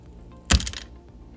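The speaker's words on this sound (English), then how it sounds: "now I'll take the same piece of graphite and it will cut through this ice cube like a hot knife through butter" A piece of graphite cracks sharply through an ice cube, one loud, close snap with a brief splintering tail, standing out alone against a quiet room.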